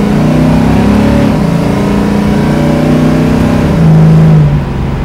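A 1974 AMC Javelin hot rod fitted with an LS engine idles steadily while warming up, a loud, close, continuous low rumble with a slight rise and settle in pitch near the end.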